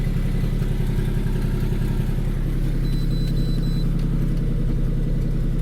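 A Ford Mustang drift-project car's engine idles steadily with a low, continuous rumble and a faint clattering tick that could point to an exhaust leak, loud and close with no talking.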